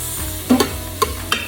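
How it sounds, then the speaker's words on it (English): Butter sizzles in a pot for keto chicken soup, a steady close frying hiss broken by a few quick stirring clinks and scrapes, with no talk. "Oh, I'm going to add a little bit of butter."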